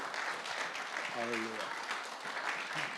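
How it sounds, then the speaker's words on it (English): Church congregation clapping hands steadily through worship at an Auckland Tongan church, a dense continuous patter of many hands with a brief sung or spoken tone rising over it partway through. "Clap your hands for Tau Jesus."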